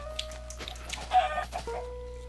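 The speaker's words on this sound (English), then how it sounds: "Chickens!" Clucking Minecraft chickens, several quick, slightly nasal clucks in a row, moderately close, layered over a constant low game hum with no voices.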